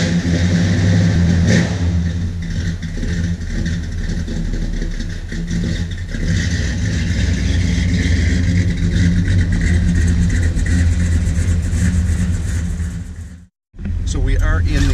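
An old Mopar car engine runs with a loud, steady low rumble from inside the cabin. It holds a constant drone with slight swells and cuts out briefly near the end.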